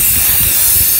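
Clear gloss lacquer sprayed from a can as a second coat on a DIY makeup storage basket, producing a loud, continuous, close hiss with no talking.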